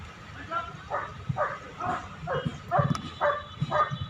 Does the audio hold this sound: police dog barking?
yes